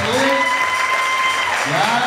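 Church congregation applauding children after a performance, loud clapping mixed with voices and speech heard over it throughout.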